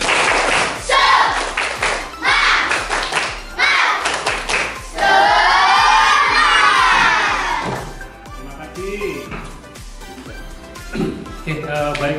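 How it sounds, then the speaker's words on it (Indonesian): A class of children in a multigrade school room performs a spirit clap, striking a quick, regular rhythm of loud claps while they shout and chant along. "kita memotivasi semangat kita dengan cara tepuk semangat"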